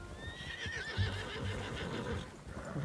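Horses in the video game Red Dead Redemption 2 whinny in a rising, wavering neigh over soft clip-clop hoofbeats and ambient game sound, moderately close.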